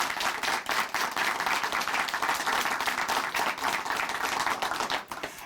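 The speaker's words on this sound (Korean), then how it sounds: "다시 한번 박수 보내드릴게요." A studio audience on a Korean Christian television program gives sustained, even applause, a dense wash of many hands clapping steadily at moderate loudness with no voices over it.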